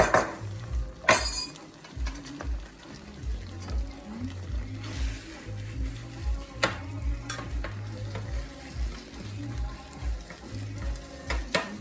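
Rice stirred into chicken gravy in a pan, with a soft continuous sizzle, scraping spoon strokes and occasional clinks against the pan.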